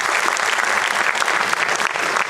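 Dense, steady applause from an audience after a Hindi stage play performance, continuous clapping throughout at full, even volume with no talk.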